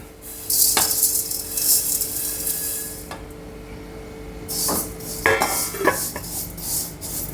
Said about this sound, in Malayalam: നമുക്ക് ഈ വെർമിസല്ലി ഇതിലിട്ടിട്ടൊന്ന് റോസ്റ്റ് ചെയ്തെടുക്കാം ഇത് ഓൾറെഡി വറുത്തത് തന്നെയാണ് എന്നാലും ഒന്നും കൂടെ വറുത്തെടുക്കാം